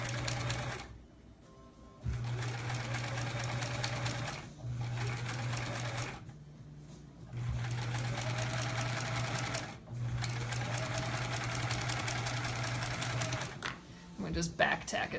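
A sewing machine stitches quilt blocks in long whirring runs broken by short pauses, close and steady, with a brief rustle of handling at the end.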